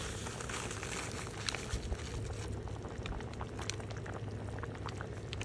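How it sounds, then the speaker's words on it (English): A pot of chicken soup with a little macaroni bubbles steadily while pumpkin soup mix is poured in, a continuous close boiling and splashing texture, cooked outdoors by a lake. "And now I'm going to add my pumpkin soup mix."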